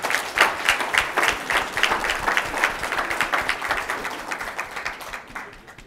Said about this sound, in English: so if we could all give them a round of applause.